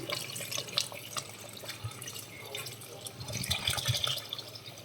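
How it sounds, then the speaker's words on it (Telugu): Water added to a pot of mutton paya soup being cooked, a continuous splashing, trickling pour close by with small drips and clinks, moderately loud and steady throughout. "వాటర్ యాడ్ చేసుకుందాం"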